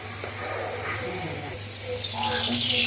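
Water is poured into a ground spice paste in a pan for Kolkata-style ghugni, a steady close trickle and splash that grows slightly fuller toward the end, with faint background hum.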